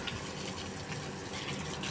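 Water pours steadily onto potted plants being watered, a continuous gushing, splashing flow heard close and alone throughout.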